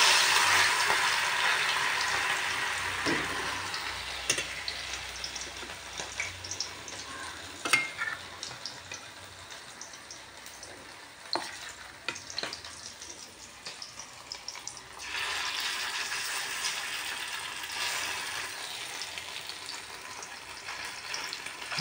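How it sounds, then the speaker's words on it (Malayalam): Prawns coated in gram flour and masala spices frying in hot oil, a steady broadband sizzle that flares louder as pieces go in, with occasional stirring clicks and scrapes, no voices. "അതിലേക്ക് നമ്മൾ പുരട്ടി മസാലകളും അതുപോലെ തന്നെ കടലമാവും എല്ലാം കൂടി പുരട്ടിയ ചെമ്മീൻ ഇടുകയാണ്"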